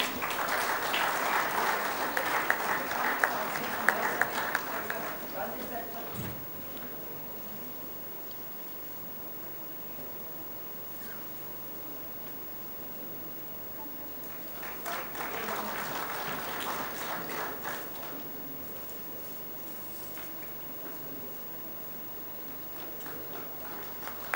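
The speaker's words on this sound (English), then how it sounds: "Let's have another warm round of applause" Warm round of applause from the audience at a shipping convention's inaugural function, loud clapping for the first five seconds, fading to quiet room noise, then a second, shorter burst of clapping.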